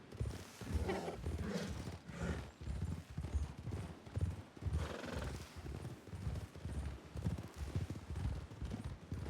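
Horses in a western video game, a steady rhythm of clip-clopping hooves running throughout with neighing and whinnying mixed in, dense and fairly loud with no talk.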